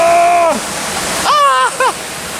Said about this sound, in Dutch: Die grote waterval weer naar beneden.